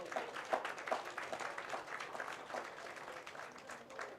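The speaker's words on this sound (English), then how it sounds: "Give them a big round of applause now." Audience applause fills a hall at a recovery and investment forum, a steady, fairly quiet wash of many hands clapping with no voices over it.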